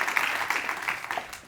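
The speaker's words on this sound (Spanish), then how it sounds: "Así que un fuerte aplauso para ellos." Audience applause for speakers arriving at a round-table panel on stage, a brief dense patter of clapping that fades out toward the end.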